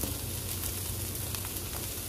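Chopped carrot, capsicum and cabbage added to minced meat in a hot pan, giving a dense, steady sizzle and crackle that stays loud throughout, with no voices.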